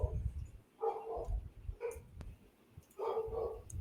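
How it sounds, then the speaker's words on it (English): A dog barks in short bursts, three or four muffled yips and woofs in quick succession, faint and somewhat distant as if heard through an open microphone during a gaming chat. "He muted himself, and I could still hear the dog barking."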